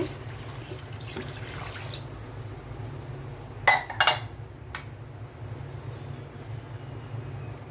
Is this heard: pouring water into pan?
yes